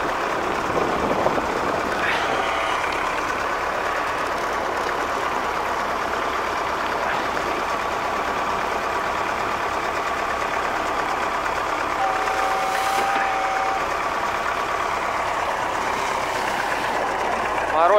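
An MTZ-80 tractor engine runs steadily in frost of about minus twenty, a continuous broadband diesel drone heard at moderate distance with faint voices in the background.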